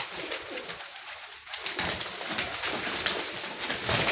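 Pigeons in a loft, including teddy and blue-colored birds, coo softly and repeatedly against a steady background of rustling and bright chatter from other birds, with no voices over them.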